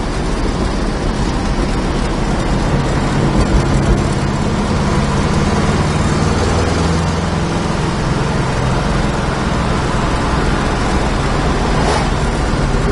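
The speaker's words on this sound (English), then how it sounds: "Really a nice tight running car." A 1970 Plymouth Cuda engine runs steadily, a loud, constant rumble blended with broad road and wind noise heard from inside the car.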